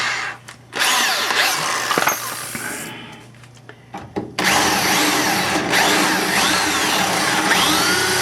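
A power drill bores out a frame rivet on a 1954 Chevrolet, grinding and whining close up in long steady runs with a brief pause and stop-start pulses before a continuous final stretch.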